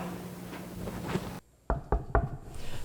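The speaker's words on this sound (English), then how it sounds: "The knock on wood 3 times technique never fails to catch the attention of any student." Three sharp knocks on wood in a school setting come right after a sudden hush in the background noise, spaced about a quarter second apart and close by.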